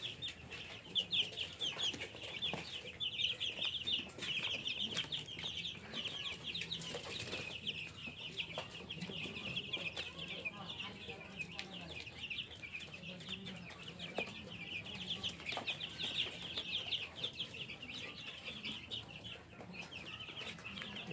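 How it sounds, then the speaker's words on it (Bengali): A large brood of around 300 Tiger-breed chicken chicks peeps in a dense, continuous high chorus, with soft scuffling underneath and no voices. "অরিজিনাল টাইগার চেঁচো মুরগির বাচ্চা"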